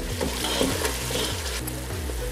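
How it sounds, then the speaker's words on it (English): Loud, steady sizzling of tomato sauce frying in a pan, with a spoon scraping and stirring through it in repeated strokes. "continue stir frying if the tomato starts getting burned"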